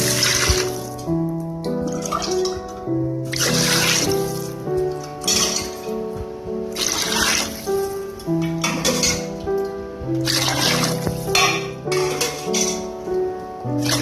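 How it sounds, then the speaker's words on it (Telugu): Five glasses of water are poured into a pot of fried ginger-garlic paste for bagara rice. The pour comes in several close splashing, gurgling bursts with short pauses between them. "5 గ్లాసుల నీళ్ళని పోసుకోవాలి."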